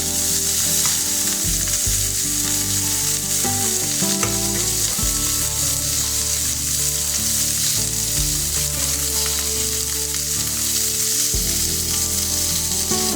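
Onion and zucchini slices sizzle and fry steadily in a hot pan on the stove, a continuous close crackle with occasional stirring and scraping of the vegetables, no talk.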